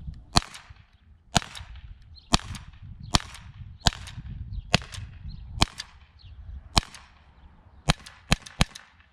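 A Walther PPQ M2 T4E .43-calibre rubber-ball pistol fires eleven sharp, loud cracks at a steady pace, then a quick closing burst of three, each shot alone with no voices in between.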